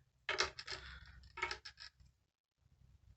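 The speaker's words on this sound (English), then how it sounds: "I'm just going to cut it at an angle on one side" Scissors snip through ribbon at an angle in two quick bursts of crisp cutting and rustle, close and quiet, followed by a short pause and faint handling.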